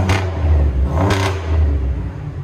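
A 2000 Chevy Monte Carlo SS with a supercharged engine and Magnaflow Magnapack exhaust idles with a deep rumble and blips the throttle twice, giving two quick, loud revs close by.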